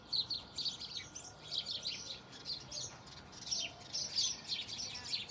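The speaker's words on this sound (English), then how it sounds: "Sparrows are having a fight in the background." Sparrows squabble in a garden bed with rapid, overlapping high chirps and tweets that keep going in bursts, faint and a little distant over a soft outdoor hiss, with no talking.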